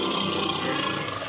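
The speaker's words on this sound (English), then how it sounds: "He talked to the lion" A lion gives a short, loud, rough roar that holds steady throughout with no other sound around it.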